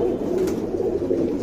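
A pigeon coos softly in a short, steady murmur of low throaty calls, fairly faint against a quiet background with no speech.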